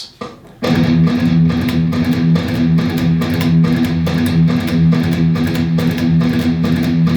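Distorted electric guitar playing a metal gallop rhythm, four galloping figures in a row, loud and close, with a sharp attack after a brief quiet start and steady palm-muted chugs throughout, no voice.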